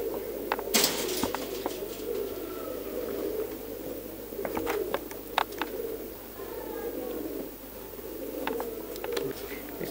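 Racing pigeons coo softly at a distance, a low murmuring under steady background noise, broken by scattered sharp clicks and brief flutters.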